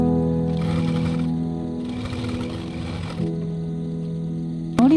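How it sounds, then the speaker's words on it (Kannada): A sewing machine stitches a kurti pant along a marked line, a close steady mechanical whirr that swells in short bursts and ends with a brief squeak. "ಈಗ ಕರೆಕ್ಟಾಗಿ ಮಾರ್ಕ್ ಮಾಡಿದ ಲೈನಿಗೆ ಸ್ಟಿಚ್ ಮಾಡ್ತಾ ಬರಬೇಕು."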